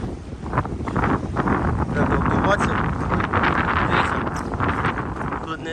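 Strong hurricane-force wind buffets the microphone in a steady, roaring rush on a rocky shore, with a voice talking underneath.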